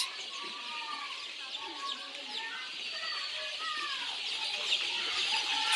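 Chickens cluck and call at a poultry seller's stall offering ducks, turkeys and various breeds, with several birds vocalizing in overlapping bursts nearby over a steady background hum.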